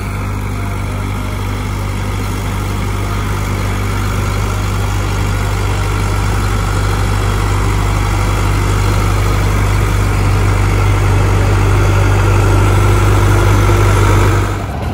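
A tractor engine drones steadily while pulling a rotavator through a maize field, a loud, continuous low rumble with no speech, holding constant throughout.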